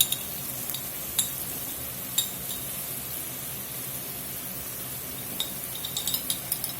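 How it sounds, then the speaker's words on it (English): A pot for New Orleans red beans and rice sizzles steadily and softly, with occasional light clinks of a utensil against the pot and no talking. "We've been sizzling here about 5 minutes."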